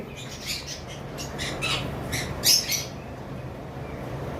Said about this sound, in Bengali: এটা কোকাটেলের মর্নিং পেয়ার